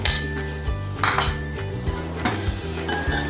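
Spoon clinks and scrapes against a metal pan while stirring cardamom-spiced sugar syrup, with rapid irregular ringing taps close by and no voices.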